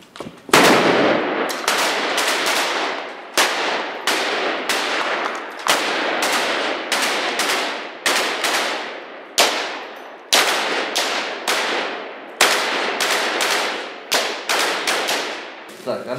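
A machine gun fires in a militia rapid-reaction platoon setting: a loud, close string of sharp bursts roughly every second or two. Each burst cracks hard and then decays.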